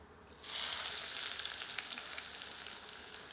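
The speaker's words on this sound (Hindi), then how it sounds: "अब प्याज को मध्यम आंच पर भूनकर सुनहरा कर लेते हैं।" Steady, close sizzling of onions frying in a hot pan over medium heat, a soft hiss rising suddenly then crackling on evenly, with no talking.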